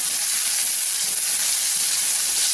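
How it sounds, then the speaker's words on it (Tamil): Onions frying for an egg masala fry, roasting toward brown in a pan: a steady, loud, close sizzle with continuous bright hiss, unbroken and without talking. "நல்ல ரோஸ்ட் ஆகட்டும், கொஞ்சம் ப்ரௌன் கலரில் வரணும்."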